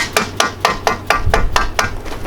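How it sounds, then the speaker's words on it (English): Dead blow hammer tapping clips into an aluminum extrusion during a retractable screen door install: nine evenly spaced sharp taps, loud and close, with no talk. "take your dead blow hammer and tap it in"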